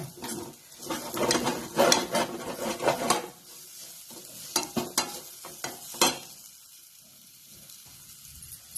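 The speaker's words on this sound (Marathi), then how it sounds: "आणखीन एक 2 मिनिटं चांगला हलवायचा." A spoon scrapes and stirs a thick sweet potato kheer mixture in a pan over medium heat, with repeated close scraping and clinking strokes, busy at first and then sparser, with no talk.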